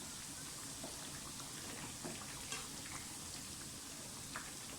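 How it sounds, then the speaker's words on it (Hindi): Thick pieces of fish frying in oil, a steady soft sizzle with faint crackles and pops throughout, quiet and continuous. "हमारे जो फ़िश के जो पीस हैं उनका साइज़ काफ़ी मोटा है, तो इसलिए इसको ज़्यादा टाइम लग रहा है फ्राई होने में"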